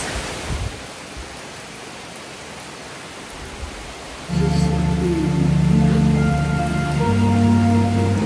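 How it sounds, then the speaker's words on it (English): A heavy thunderstorm downpour drums steadily on a half-roofed off-grid log cabin, a loud hiss of rain that is soon joined by music playing over it. "Downpour, thunder, and lightning."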